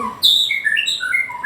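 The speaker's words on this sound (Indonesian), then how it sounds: "suara burung." Bird calls: a quick series of high, bright chirps and whistles, close and clear with no other sound behind them.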